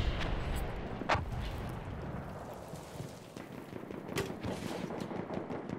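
Dense, continuous gunfire rattles through a Battlefield 1 multiplayer battle, with rapid bursts and a few sharper nearby shots over a noisy, rain-like wash of battlefield sound.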